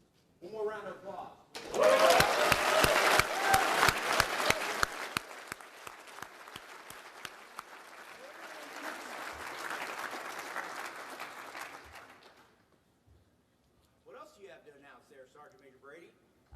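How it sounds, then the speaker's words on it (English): A crowd at an Army awards luncheon breaks into loud, sustained applause with sharp clapping at first, easing into steadier clapping that fades out, followed by brief talking at the end. "One more round of applause."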